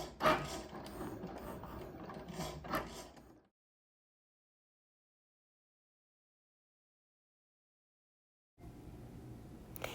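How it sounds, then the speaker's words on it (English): A Cricut cutting machine working through a design, giving a close mechanical whir with ticking, gear-like clicks for about three seconds, then total silence, before a faint machine hum returns near the end. "here's my Cricut, hard at work, cutting out my design for me"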